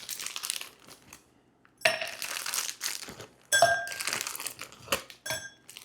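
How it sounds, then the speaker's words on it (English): Three ice cubes clatter and clink into a glass while a pineapple ginger beer is made at home, arriving as separate bright crashes spaced apart, each followed by rattling settling ice, close and clear. "I'm going to start with just 3 ice cubes."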